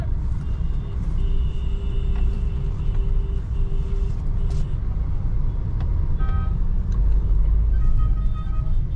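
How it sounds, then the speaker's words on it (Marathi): Busy road traffic near the Sangamner bus stand in Maharashtra: a continuous low engine rumble from cars, trucks and buses, with brief horn tones and a short hiss of air brakes over the dense flow. "आणि सेम ट्रॅफिक या रोडला पण आहे"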